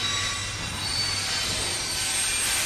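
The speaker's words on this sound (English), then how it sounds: "Oh, the train's stopping." A train in The Walking Dead video game brakes, high metallic wheel squeal ringing over a broad rumbling roar that grows slightly louder toward the end.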